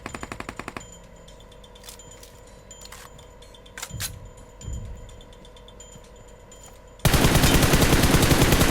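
Gunfire in the mobile battle royale game PUBG Mobile: a few sharp shots at the start, scattered thuds and clinks, then a sudden sustained burst of loud rapid automatic fire at the end.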